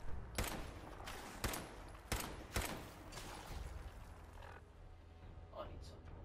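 Gunfire from enemy fights in the Fallout video game: four sharp, loud shots spaced about a second apart, then quieter scattered game sounds over a constant background.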